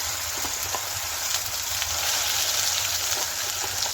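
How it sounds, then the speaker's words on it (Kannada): Ground masala frying in oil over a low flame, with cloves and cardamom in the pan for an egg gravy: a steady close hiss with light crackle, heard alone without talk. "ಈ ಮಸಾಲೆ ಚೆನ್ನಾಗಿ ಎಣ್ಣೆ ಬಿಟ್ಕೊಳ್ಳೋವರೆಗೂ ಲೋ ಫ್ಲೇಮಲ್ಲಿ ಇಟ್ಕೊಂಡು ನಾವು ಇದನ್ನು ಫ್ರೈ ಮಾಡ್ತಾ ಇರಬೇಕು"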